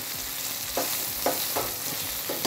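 Vegetables for ratatouille sautéing in a pan over reduced heat as they turn translucent: a soft, steady sizzle broken by a few light scraping stirs, fairly quiet and without speech.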